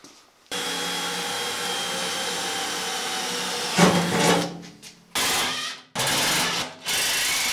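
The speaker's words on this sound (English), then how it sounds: "I'm just going to drill in from the side and run a couple of screws on each side" A power drill whirs steadily, then bursts of higher-pitched grinding as screws are driven into the side of a wooden box, with short pauses between runs.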